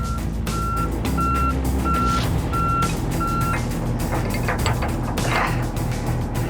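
A tow truck works a salvage job at a capsized boat, its reversing alarm beeping at a steady even rhythm over the diesel engine's low rumble, with clanks and knocks following as the beeps stop.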